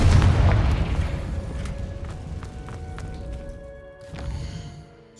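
A Confringo explosion spell cast in Hogwarts Legacy, a loud opening boom that rumbles and fades, followed by scattered impacts and a second, smaller burst near the end.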